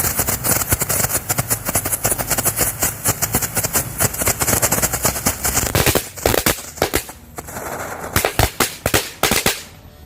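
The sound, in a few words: firecrackers exploding, three in a row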